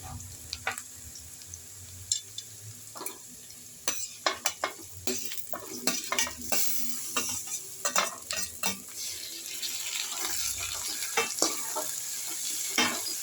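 Tomatoes tossed into a pan of sautéed onions sizzle steadily, punctuated by frequent clattering scrapes and knocks of a spoon stirring against the pan, with no talking.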